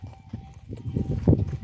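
Cattle walk down a slope, hooves clopping in an uneven series of dull knocks that grow busier and louder toward the end, fairly close, with faint rustling around them.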